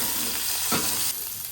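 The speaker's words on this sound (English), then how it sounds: "Now we're able to saute those vegetables and all that flavor." Vegetables sautéing on a griddle in beef tallow for hibachi fried rice, a steady broadband sizzle with light stirring, outdoors on a windy day, close and continuous with no voices.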